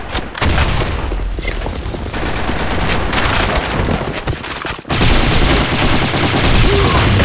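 Rapid gunfire from the Blackshot online shooter, an office map match, with dense overlapping bursts of shots and booms running continuously and loudly throughout, a brief lull just before the five-second mark.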